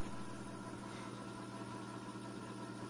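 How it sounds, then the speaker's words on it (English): A newly replaced auger motor on a Whitfield pellet stove runs with a faint, steady low hum and slight vibration, continuous and unbroken. "Alright, so here it is, auger motor running."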